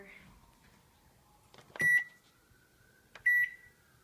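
An oven timer in a home kitchen gives two short, bright electronic beeps about a second and a half apart, clear and close against quiet background noise.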